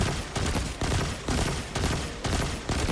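Rapid gunfire in the Destiny video game, a series of loud, punchy blasts fired in quick bursts about every half second, close and continuous over a background rumble.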